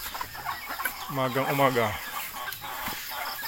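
Chickens at a small poultry farm clucking and calling close by, one drawn-out squawking cluck standing out over a quiet outdoor background, with someone speaking briefly.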